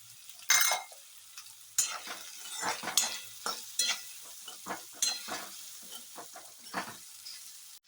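Ridge gourd being stirred with black masala in a hot pan, a run of sharp scraping stir strokes over a soft steady sizzle, close and fairly loud with irregular rhythm.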